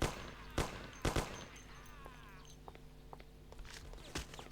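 Gunfire in Mafia: The City of Lost Heaven, a few sharp, loud isolated shots spaced apart, with fainter clicks and rattles between them.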